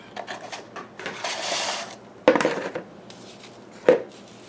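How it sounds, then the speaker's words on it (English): A plastic plant pot squeezed by hand to loosen the soil while repotting houseplants: crinkling, scraping rustles with two sharper crackles, close and fairly loud, with no talking. "I'm squeezing the pot to loosen the soil"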